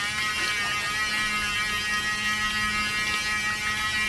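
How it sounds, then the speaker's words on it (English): Small auto-rotating car wash brush spinning, a steady high-pitched motorized whine with a constant hum underneath, continuous and close with no talking. "It just sprays it into the brush and then it spins it somehow"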